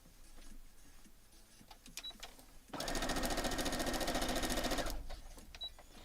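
A sewing machine stitches a foundation paper-pieced quilt block in one continuous burst of about two seconds, a fast, steady mechanical whir. Quiet handling noises come before and after it.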